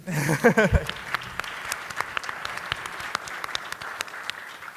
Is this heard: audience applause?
yes